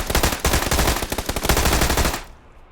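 Double-barrel shotgun gunfire in the video game PUBG, a loud rapid burst of shots for about two seconds before cutting off sharply into silence.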